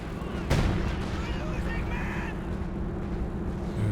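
Gunfire from units shooting at Comet tanks in a Company of Heroes 2 match, a sharp blast near the start followed by a steady rumble of battle beneath continuous commentary.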